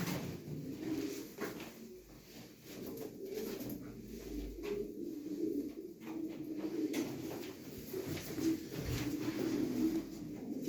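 Pigeons coo steadily at close range through a bird auction hall, soft overlapping calls layered over a dull room murmur with occasional clatter.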